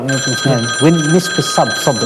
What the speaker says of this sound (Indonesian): ini ada telepon Ustaz ya